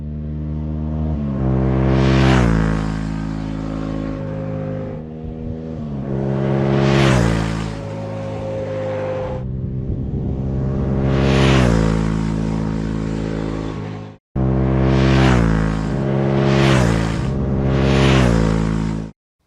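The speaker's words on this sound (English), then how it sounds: "Now how about high speed as we pass by?" A Yamaha Tenere 700 motorcycle rides past at high speed several times, its exhaust rising to a loud roar as it nears and falling away, with one brief cut between passes.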